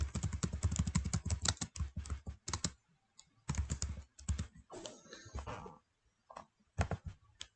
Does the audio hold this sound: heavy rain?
no